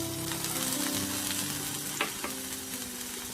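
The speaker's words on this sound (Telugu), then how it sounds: "ప్యాన్లో 1 టీ స్పూన్ నూనె వేసుకొని పచ్చిమిరపకాయ ముక్కలు," Green chilli pieces fry in a teaspoon of oil in a pan with a steady, close sizzle, broken by a few brief stirring clicks against the pan.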